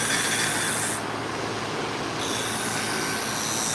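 A knife blade is drawn over a sharpening surface in a steady, continuous rasping scrape with an even, light stroke and no talking.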